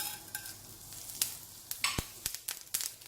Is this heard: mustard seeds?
yes